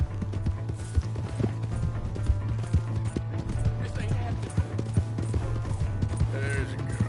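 Rapid rhythmic hoofbeats of a galloping horse in the video game Red Dead, loud and close, pounding steadily over a low droning background.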